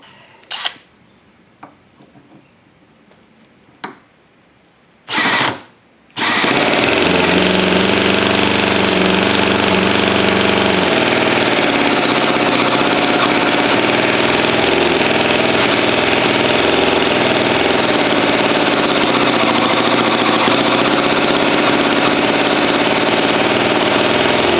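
An ENJOMOR 10cc Whippet flathead model gasoline engine, throttle wide open, gives a few clicks and brief cranking bursts before catching and running loud and steady, a close, continuous buzzing chug that holds to the end.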